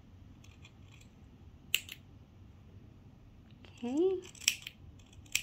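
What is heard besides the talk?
scissors snipping around a sewn fabric toy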